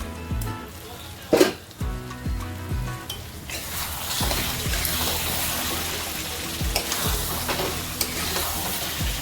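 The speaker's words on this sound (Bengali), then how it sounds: "আমি চিকেনটা প্রায় আধ ঘন্টা মতো ঢাকনা চাপা দিয়ে দিয়ে বারবার করে ঢাকনা খুলে খুলে এইভাবে কষিয়ে নিচ্ছি।" Chicken for biryani cooks in oil in a pot, sizzling and frying steadily with stirring scrapes and a sharp clatter near the start, then a dense, continuous hiss throughout.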